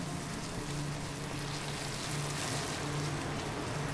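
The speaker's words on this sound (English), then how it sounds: "So you crank the temperature up, throw some more butter in" Butter sizzles and foams in a very hot pan alongside garlic and shallots, a steady, close crackling hiss that carries on evenly with no talking.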